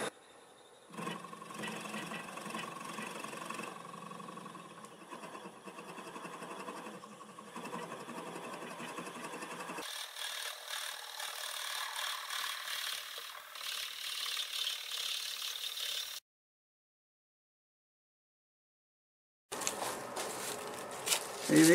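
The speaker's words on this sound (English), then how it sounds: "I've decided to go ahead and drill part of this out." A steady mechanical whirring grind with a rough scraping texture as a drill bores into wood on a lathe, continuing for long stretches, then stopping briefly before starting up again.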